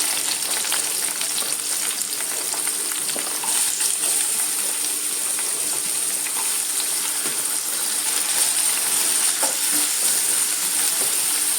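Chopped onion and tomato sauté in a pan for tomato chutney, giving a continuous bright sizzle with occasional scraping stirs, steady and close throughout.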